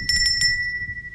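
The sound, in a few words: hand bell being rung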